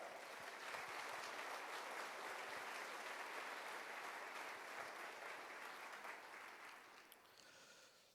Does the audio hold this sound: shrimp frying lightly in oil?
no